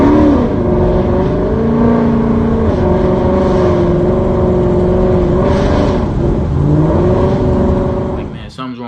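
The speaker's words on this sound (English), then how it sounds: "So I'm stepping on the gas, the car is not moving, so I have to step on it harder" A car engine revs hard and steadily under heavy throttle while the vehicle struggles to move with a failing transmission, a loud continuous drone with slight pitch rises and dips; speech is present over it.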